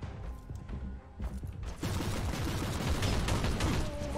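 Lascannons firing in the video game Warhammer 40,000: Inquisitor Martyr, scattered shots at first, then a dense, loud barrage of blasts that continues to the end.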